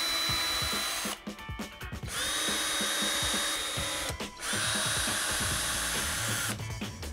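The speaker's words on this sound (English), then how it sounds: "all I'm gonna do is drill a small pilot hole in preparation for the nail" Power drill boring a small pilot hole in a wooden board, in three short whirring bursts with brief pauses between them, close and fairly loud, with no talking.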